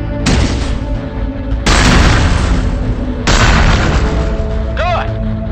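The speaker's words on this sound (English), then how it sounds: "Now spit out a few grenades." Grenades launch and detonate in the video game Cryptark, three heavy booms arriving at roughly regular intervals, each loud and rumbling before cutting off, with a brief whistling electronic sound near the end.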